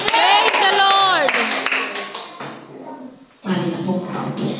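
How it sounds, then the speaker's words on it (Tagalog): A church congregation claps in praise during a worship service, with a burst of loud, dense clapping that is mixed with singing and speaking voices before briefly fading, then rising again. "Palakpak sa Panginoon."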